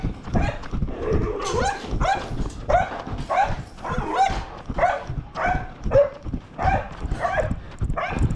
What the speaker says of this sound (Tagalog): Teka, may maingay na aso.